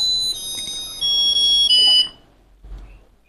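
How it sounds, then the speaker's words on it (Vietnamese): Japanese electric rice cooker with a 1.8-litre capacity plays a loud, bright electronic chime melody of sustained beeping tones for about two seconds, then falls quiet except for a faint low thump. "tất cả chuông còi nhạc dạo đầy đủ cho các bác luôn nhá"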